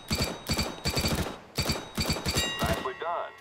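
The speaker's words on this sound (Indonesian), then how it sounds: "sekarang suruh nembak nembus kayu ini" Rapid automatic gunfire in CS:GO fired through a wooden surface, several quick bursts of close, punchy shots with brief pauses between them.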